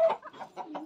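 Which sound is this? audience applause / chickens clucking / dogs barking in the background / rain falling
chickens clucking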